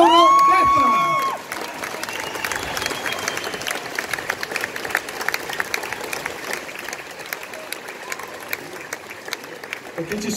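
An outdoor crowd on Locarno's Piazza Grande applauds and cheers during a guitar festival. The clapping and shouts spread as a broad, steady roar after a short stretch of a voice over music at the start.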